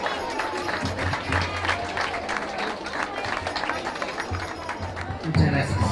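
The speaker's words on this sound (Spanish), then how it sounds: "Fuertes aplausos." An outdoor audience at a Guatemalan Independence Day parade event in Sacapulas, Quiché, bursts into loud, sustained applause, with dense clapping and crowd chatter mixed throughout.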